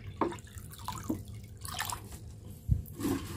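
Water trickling and dripping into a betta fish container, with small splashes and a heavier plop near the end, fairly close and with no talk.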